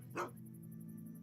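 Dogmeat, the dog companion in Fallout 3, lets out a single short, sharp bark over a low steady background hum.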